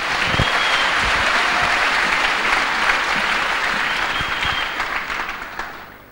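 A church congregation breaks into loud, sustained applause that fills the room at a steady level, then gradually thins and fades toward the end.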